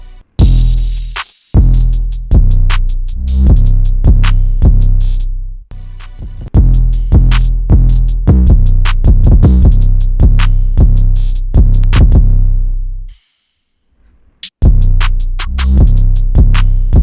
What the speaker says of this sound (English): So yeah, all the drums together sound like this.